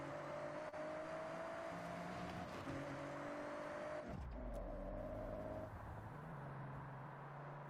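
A fastback car races in the Forza video game. Its engine tone rises and holds, then drops and climbs again through gear changes, staying steady and prominent with no talk over it.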